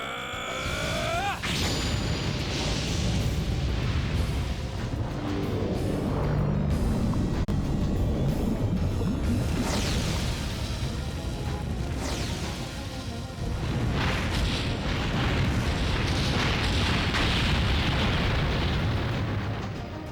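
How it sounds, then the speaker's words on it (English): A fire-based Explosion magic attack in the video game Legend of Dragoon, set in a dragons' lair, roars as a sustained, loud rumbling blast with crackling bursts and swelling booms that fill the whole stretch, with no talking over it. "Explosion!"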